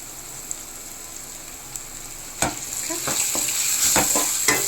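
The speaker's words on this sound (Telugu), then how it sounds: "ముందు మనం తరిగి పెట్టుకున్న పచ్చిమిరపకాయలు వేసుకుంటున్నాం." Green chillies and curry leaves sizzle in a thick-bottomed pan for prawn curry, a soft frying hiss joined midway by louder spatters and several sharp stirring scrapes.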